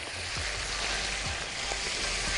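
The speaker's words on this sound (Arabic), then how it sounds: "ونيجي نقلب الكبدة مع كل الكلام ده. نقلبها كده تتحمر تماما" Liver frying in a pan with coriander, paprika, nutmeg, black pepper and salt, giving a steady close sizzle with a few soft scraping stirs throughout.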